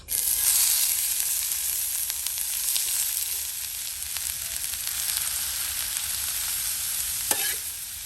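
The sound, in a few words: chopped onions frying in coconut oil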